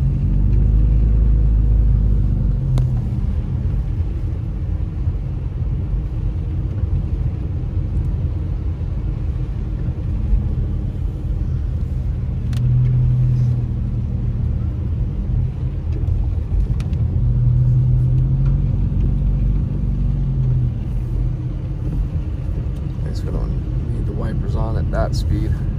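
A car drives along a snowy mountain road near Big Bear, giving a steady low engine and tire rumble that holds for the whole stretch without pause.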